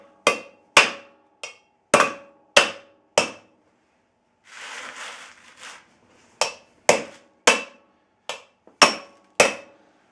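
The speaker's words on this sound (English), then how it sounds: "Knock the studs out. Flip it over, hammer it." Sharp metallic hammer strikes knocking studs out of a 1976 Jeep Cherokee rotor ring out in two bursts, roughly a dozen hits with a brief pause of rustling and scraping between them.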